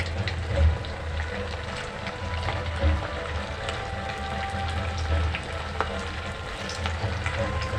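Varai (barnyard millet) medu vada frying in hot oil, a steady bubbling sizzle running throughout with a few soft low bumps as pieces are lowered in, fairly close and even in loudness.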